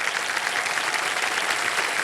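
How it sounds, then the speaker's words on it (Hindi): Studio audience applauding on a Hindi TV quiz show after a cash prize is won, a steady, dense clapping that holds evenly for the whole stretch with no talk over it. "तालियां बजती रहने"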